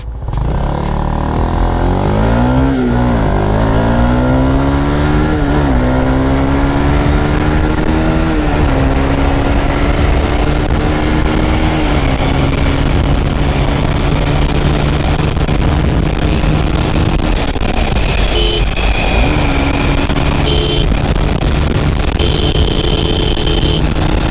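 A Honda CBR 150R motorcycle accelerates in fifth gear, its engine note loud and close, climbing in pitch with a brief dip before rising again, droning steadily throughout.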